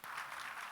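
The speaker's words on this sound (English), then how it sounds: "go on then, clap properly" Audience clapping at a literature festival session, a brief burst of applause heard for under a second.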